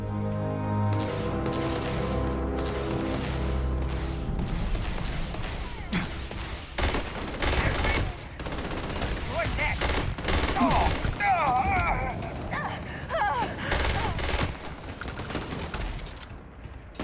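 Gunfire in Starfield: dense bursts of weapon fire, with loud sharp shots clustered midway through over continuous background game sound and a low rumble.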